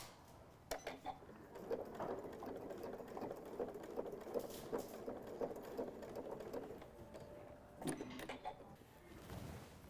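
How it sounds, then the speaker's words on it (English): A home sewing machine runs slowly, top stitching fabric for a stuffed Christmas nativity scene, with a soft, even mechanical whir and a few sharper clicks, fairly quiet throughout. "I'm just going to slide my clip down and slow down and top stitch that down"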